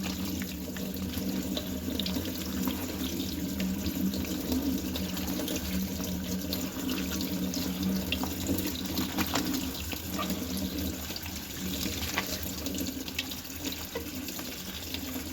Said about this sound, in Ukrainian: Відкриваю кран і знову промиваю.